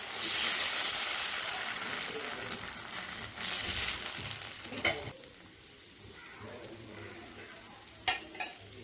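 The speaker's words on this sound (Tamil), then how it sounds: "இப்போது அடை மாவை ஊற்றலாம்" Adai dosa batter sizzles and crackles on a hot griddle, a loud frying hiss that swells and then settles, with a few sharp clinks near the end.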